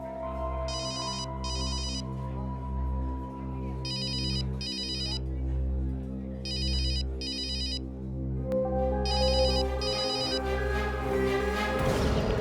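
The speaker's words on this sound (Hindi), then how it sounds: "फोन करने पर फोन नहीं उठा रहा है," A phone rings repeatedly in paired electronic bursts, unanswered, over a low sustained musical drone that swells toward the end.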